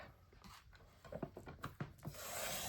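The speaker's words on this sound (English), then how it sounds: "We're going to cut about 1 inch off the end" Scissors cutting a one-inch strip from a sheet of 12-inch scrapbook paper, a quiet series of short rasping snips and rubs, close and faint, with no talk.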